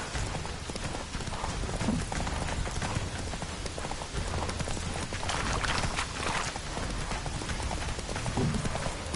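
Roach the horse gallops in a video game, hooves pounding in a fast, continuous clip-clop rhythm amid rushing wind or rain-like noise and other game sounds, loud and close throughout.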